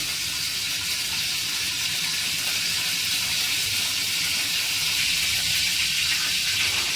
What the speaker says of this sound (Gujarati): કાઢી દીધું આપણે પાણી